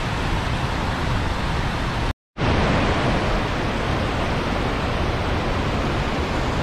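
Steady, loud broadband rushing of the Salto Yucumã waterfall on the river at Derrubadas, Rio Grande do Sul, Brazil, a continuous close roar of falling water with a brief dropout partway through.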